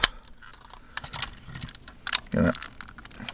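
Plastic clicks and rattles from folding the legs of a Power Rangers T-Rex Zord toy, a string of light snaps and one louder burst of handling close by, with no talk.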